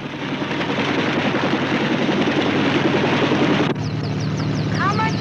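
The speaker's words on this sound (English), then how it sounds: "The Army is rushing two doctors to Las Vegas by way of helicopter" Helicopter in flight carrying Army doctors, a loud steady rotor and engine roar that drops slightly in level near the end, with faint high chirping sounds over it.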